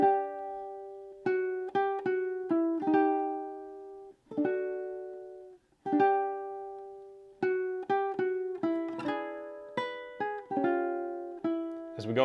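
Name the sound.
ukulele playing measures of a song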